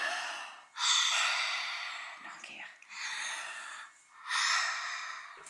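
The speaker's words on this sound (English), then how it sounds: "Right, so this is him breathing." A patient's breathing during elastic therapeutic taping for respiration, with several long, loud, airy breaths in a slow rhythm close to the mic, no talking over them.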